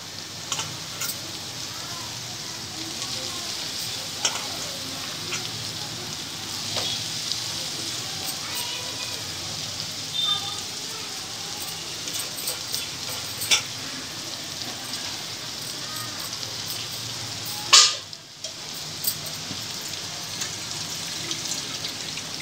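Cooked rice tipped into a pan of wilted spinach and simmered yogurt for jeera palak rice, stirred with a spoon: a steady soft sizzle with light scraping and clinks, one sharper clatter near the end.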